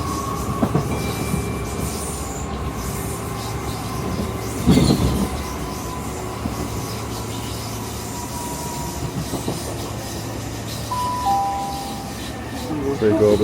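A train running along a rail line near Kent House station in suburban London, with a steady low rumble and rolling wheel noise throughout and a brief louder clatter partway through.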